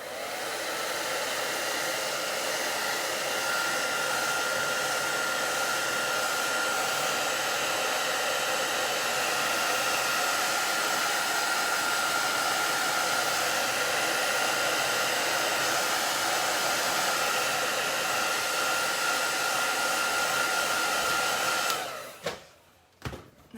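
Hair dryer blowing on acrylic paint on a bunny crossing painting: a steady, loud, close whooshing roar held for about twenty seconds before it cuts off abruptly near the end.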